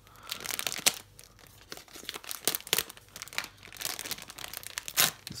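Packaging for a white BitFenix sleeved cable set with a 24-pin cable is torn open by hand, giving close, irregular bursts of crinkling and ripping plastic with no talking.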